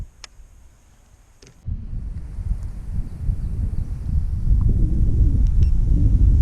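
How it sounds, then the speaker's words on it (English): Wind buffeting a microphone on a fishing boat on a Maine lake. Quiet at first, then a sudden rise into a steady, low rumbling roar that grows louder toward the end. "sorry about the wind here"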